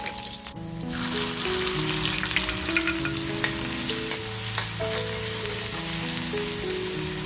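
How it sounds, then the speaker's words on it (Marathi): Garlic and chopped onion frying in hot oil for a Malvani crab thali, a dense steady sizzle rising suddenly after a brief quieter start, with scattered crackles and background music tones running throughout. "लसूण टाकली ना की लगेचच आपल्याला जो कांदा कापून घेतला आहे तो कांदा टाकून घ्यायचा आहे"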